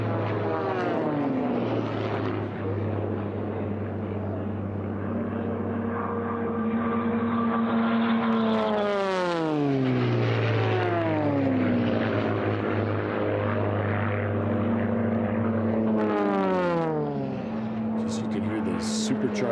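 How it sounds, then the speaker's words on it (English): Turbocharged propeller racing planes speed past close to the pylons at an air race, their loud engine drone falling in pitch as each passes, with several passes in a row and a commentator talking over them. "Turbocharged engines coming by."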